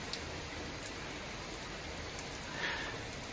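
Rain falls steadily outside, a faint, even hiss of drops on surfaces with a brief louder patter partway through.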